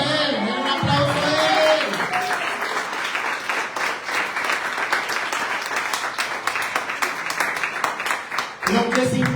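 A church congregation breaks into full, sustained applause after a tonal musical swell, with the clapping dense and loud throughout before music returns at the end.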